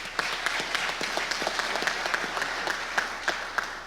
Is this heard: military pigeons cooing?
no